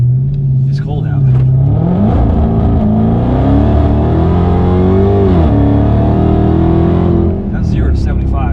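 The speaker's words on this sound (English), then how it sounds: "0 to 60 acceleration pull with the traction control on because it's cold out." A Chrysler Hellcat makes a 0 to 60 run with traction control on in cold weather. The loud engine roar climbs steadily in pitch through the pull, then eases off near the end.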